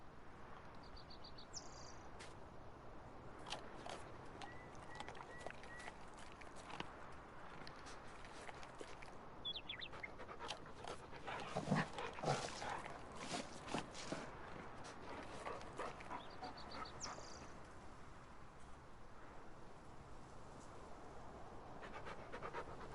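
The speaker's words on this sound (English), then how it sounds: "Just trying to go check out my dog and feed my dog." A dog in Farming Simulator 19 pants in quick breathy bursts, with a few faint high whines and soft footstep-like taps mixed in, and louder rustling activity near the middle.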